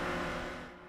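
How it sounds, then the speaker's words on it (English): A Toyota GR Supra deep in a drift, its engine droning at high revs in a steady, loud roar that tapers off slightly toward the end, with no voices. "This is the sound of a Toyota GR Supra deep in a drift."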